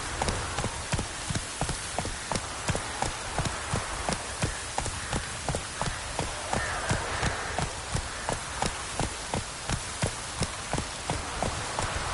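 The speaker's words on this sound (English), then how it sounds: "No use doing any work in this rain." Heavy rain falls steadily in The Witcher video game, a dense hiss throughout, with a regular clip-clop of hoofbeats running under it from start to finish and no voices.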